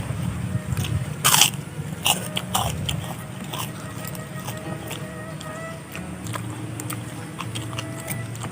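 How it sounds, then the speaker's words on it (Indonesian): Someone chews crunchy seblak and fried pangsit dumplings close up, with repeated crisp bites and crackling crunches over steady soft background. "Ngunyah. Edok. Ngunyah."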